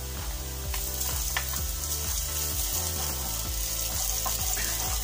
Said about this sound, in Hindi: और इसको 1 से 2 मिनट के लिए अच्छे से फ्राई करेंगे